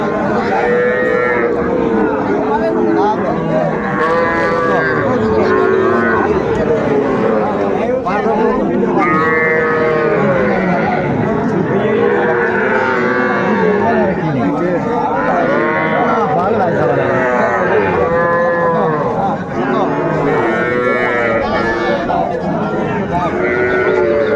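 Cattle moo over and over, loud and overlapping, with calves including Jersey heifer calves and young bull calves among them, and a steady murmur of people talking beneath at a cattle market.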